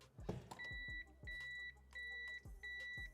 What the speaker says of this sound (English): there is one more thing, the automatic JDM reverse beeper.